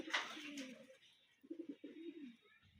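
Pigeons perched high up give a few soft, low rolling coos in two short bursts, fairly quiet and clear, with a brief bright noise at the start.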